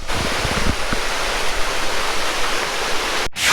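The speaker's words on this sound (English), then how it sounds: "Hey, we found our first waterfall." A small waterfall on Sweet Creek Falls Trail in Oregon, a constant broad rushing roar of falling water, close and loud, with a brief handling thump near the end.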